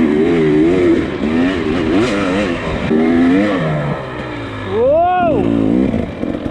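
Dirt bike engines at an amateur Tuesday night race, loud revving and rising and falling whines with one bike sweeping past close, mixed with voices talking over the roar.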